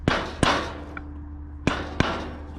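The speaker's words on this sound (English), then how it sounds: "Put your hammer in there like this and just tap it slightly." A hammer tapping lightly on a 7K grease hub bearing on a car hauler trailer, four sharp metallic clinks with uneven gaps and a faint ringing tone between them.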